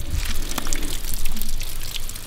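Water dripping and trickling from a seam in a flume: close, splashy, irregular patters and small drips over a constant wet hiss, with no voices.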